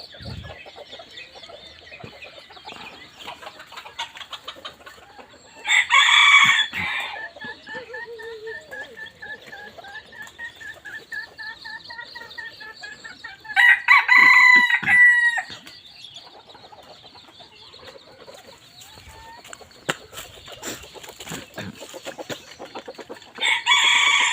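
Khun Phaen mixed-breed chickens crow and cluck in a farmyard, with loud roosters' crows bursting out in several separate calls between quieter clucking and background sounds.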